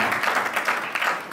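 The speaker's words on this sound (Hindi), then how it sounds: "तालियां कमजोर आ रही है भाई" Audience clapping at a Hindi comedy poetry gathering, a short, fairly dense burst of applause heard at moderate distance that trails off within a second or so.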